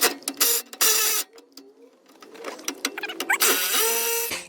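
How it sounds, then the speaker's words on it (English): A wrench ratchets bolts off the exhaust of an Infiniti G35 with a VQ35DE engine during a straight-pipe install, close, bright bursts of clicking ratcheting in uneven spurts with short pauses between. "We just took 2 bolts off."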